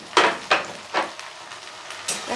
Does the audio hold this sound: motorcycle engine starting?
no